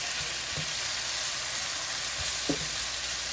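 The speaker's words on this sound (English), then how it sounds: "And we let it saute like that." Salmon sautéing in a hot pan for a penne with salmon sauce, a loud, steady, dense sizzle throughout with a few faint low knocks underneath.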